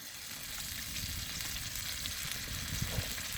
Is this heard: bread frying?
yes